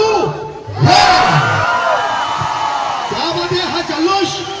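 Villagers of Bonkode in Navi Mumbai, together with the youth council, cheer and whoop loudly at the Gavdevi palanquin festival, a dense crowd roar with shouts rising and falling throughout.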